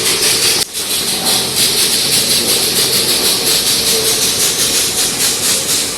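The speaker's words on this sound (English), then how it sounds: "So he has started to spray the paint." Spray gun applying 3M anti-rust coating to the wheel arches and underside of a Maruti Suzuki Ritz, a loud, close, continuous hiss that pulses slightly, with one brief break near the start.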